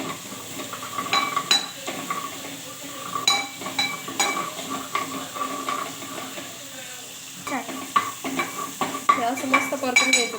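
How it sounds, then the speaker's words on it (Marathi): A masala of peanuts, chilli and garlic is sautéed in a pan for kadhi: a spoon clinks and scrapes against the metal with a soft sizzle, in irregular bursts of stirring, close by. "हे चांगलं परतून घ्यायचं"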